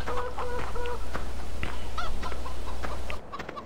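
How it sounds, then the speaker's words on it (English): Farm poultry in Farming Simulator 2015 on Xbox One, a busy cluster of clucks and honking squawks overlapping in quick succession over a steady low hum, close and fairly loud, the background cutting out abruptly near the end. "let's jump over the fence here and let's check our chickens"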